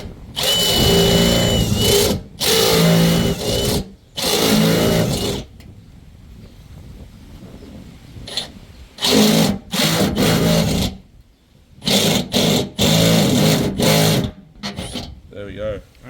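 A power drill bores 16mm holes in a VW Amarok body for a snorkel, running in several loud, close bursts separated by pauses, with someone talking between them.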